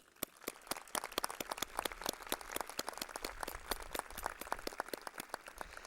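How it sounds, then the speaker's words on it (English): Sparse applause from an audience at a spring graduation ceremony, individual sharp hand claps ringing out irregularly and fairly close, quieter than a full ovation. "Please join me in a round of applause for our very special graduates."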